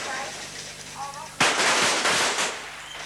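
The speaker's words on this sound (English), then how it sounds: "Possible 10 with his first shot." A single sharp gunshot at a shooting competition cracks out midway, followed by a brief decaying echo, with faint background voices and crowd murmur before it.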